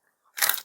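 Gummy jelly candy shaped like Santa and a snowman, chewed close to the mic, gives one short wet crunching bite-and-chew burst about a quarter second long, alone in quiet.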